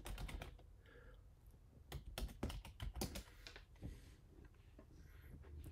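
Password being typed on a computer keyboard: a run of quick, moderately loud key clicks in short uneven bursts, with a few pauses between strokes and no voices.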